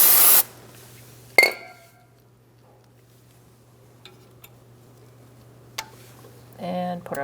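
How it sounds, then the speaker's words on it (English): Brake parts cleaner sprays in a short, loud burst onto the rear brake caliper area of a 2012-2019 Fiat 500, followed by a sharp clink, then quiet shop ambience with small taps and a brief voice at the end. "I'm going to clean off the area with some brake parts cleaner."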